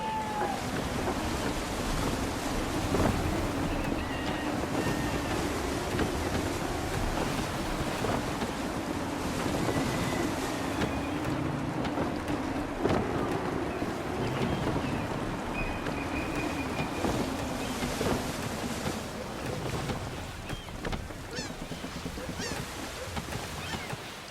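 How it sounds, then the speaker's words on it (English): Gusty wind and breaking waves rush steadily around a sailing ship in Assassin's Creed III, a dense, continuous roar of sea and air with no pauses. "Wind looks to be shifting. Stay alert, Connor. Gusty winds can be difficult to manage."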